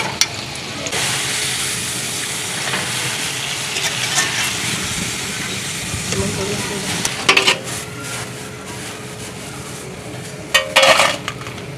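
Cut potato fries frying in oil over a high flame make a constant broad hiss close at hand, with a couple of brief metallic clatters from the pan.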